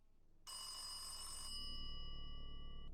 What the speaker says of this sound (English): why is the payphone ringing?